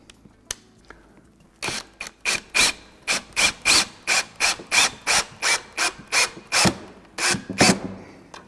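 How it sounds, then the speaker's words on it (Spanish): Screws are driven into a wooden table joint during a repair, a rhythmic run of about a dozen sharp, even ratcheting bursts, close and fairly quiet, after a few isolated clicks. "y empezamos a atornillar"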